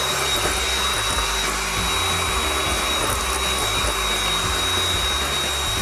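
An electric mixer whips egg whites in a home kitchen, a steady, loud motor whir with a constant high whine, close and uninterrupted throughout.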